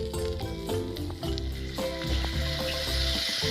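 Chicken kosa sizzles steadily in a pan with chili powder while being stirred, a close, continuous frying hiss broken by soft scraping and clinking of the spoon.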